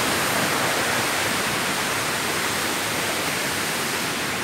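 Flowing headwater stream near the Tat Yai waterfall, a loud steady broadband rush of water with no breaks and no voices.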